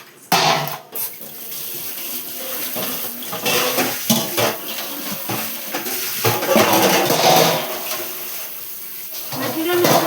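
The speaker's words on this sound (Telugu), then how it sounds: "ఈ మజ్జిగ నీళ్ళు పారబోసేద్దాం" Watery buttermilk splashes as it is poured away into a sink, a steady wet gush running for several seconds alongside a talking voice.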